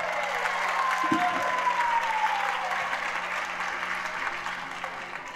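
Studio audience applauding a sertanejo duo on a viola music TV show, steady dense clapping throughout with a faint whistle-like tone early on, fairly loud and continuous.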